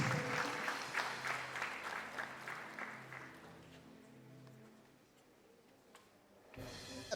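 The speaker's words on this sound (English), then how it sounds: "I was hoping you would do a better round of applause." An audience at an orientation program gives a round of applause, dense clapping that thins out and fades to quiet after about four seconds, followed by faint room noise and a brief bump.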